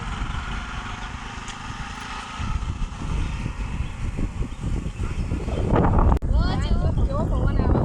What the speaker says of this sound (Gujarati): કેવો પવન આવે જો મમ્મીને કેવો પવન મેલ્યો ઠંડો ઠંડો